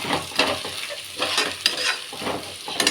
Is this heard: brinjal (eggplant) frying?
yes